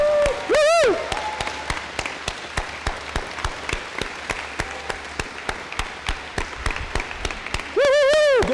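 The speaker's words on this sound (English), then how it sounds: "I'd like all of us to give them a really good round of applause for a lot of hard work" An audience at a gubernatorial campaign debate gives campaign surrogates a round of applause, heard as scattered, fairly sparse claps with two loud cheering whoops at the start and end.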